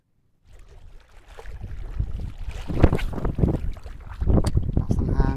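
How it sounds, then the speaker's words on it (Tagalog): Gusty wind buffets the microphone while fishing in mangroves, building up after a quiet start and roaring in uneven bursts, with water or boat noise underneath. "Lakas ng hangin."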